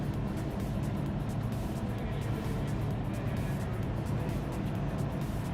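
A Mustang race car engine in Assetto Corsa Competizione drones steadily and loudly throughout, a dense continuous roar with no clear gear changes, heard alone without talk.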